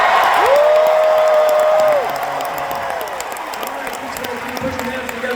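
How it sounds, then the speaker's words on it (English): A crowd at a showcase in the Honda Center arena claps and cheers loudly at first, then the applause thins to a softer patter while a voice rings out briefly above it. "we're going to have to hear a loud applause"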